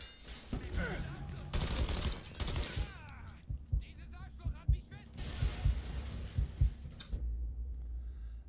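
Bursts of rapid gunfire and sharp shots in the game Mafia III, alternating with quieter gaps and thuds, loud and close.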